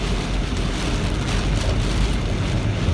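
Heavy rain pours steadily during a storm by a lake, a dense, loud, unbroken hiss with a low rumbling undertone and no voices.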